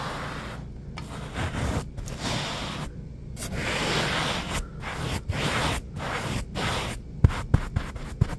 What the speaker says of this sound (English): First, carpet scratching